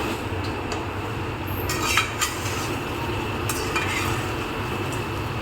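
Chicken cooking in a pan for a home dinner, with a steady sizzle and occasional clinks and scrapes of a utensil stirring the pan, heard up close with no talking.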